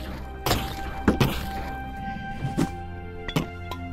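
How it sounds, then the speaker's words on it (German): A wooden box tumbling down in the VR game Naau: The Lost Eye, giving a string of hollow thunks and knocks spread over a few seconds, moderately close and alone. "Oh, oh, die Kiste ist runtergefallen."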